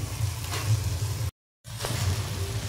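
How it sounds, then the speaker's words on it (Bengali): Potatoes slid gradually into hot oil for a Bengali aloo dum, giving a steady close sizzle and crackle that breaks off briefly in silence, then resumes just as strongly. "এবার আলুগুলো দিয়ে দেবো আস্তে আস্তে।"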